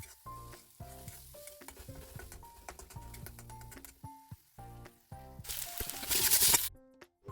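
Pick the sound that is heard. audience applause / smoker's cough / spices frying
spices frying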